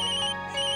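A phone rings with a mother calling, a bright electronic melodic ringtone playing steadily and loud for under a second, with no voices.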